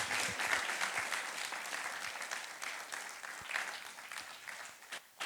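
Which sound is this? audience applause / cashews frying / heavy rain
audience applause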